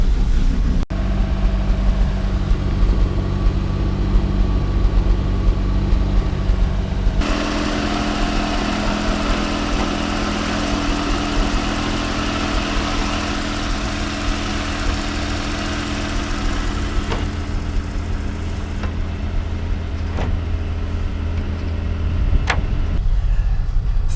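A BMW E30 engine idles after starting, a loud, close, steady low rumble that holds throughout, its tone shifting slightly partway through, with no voices.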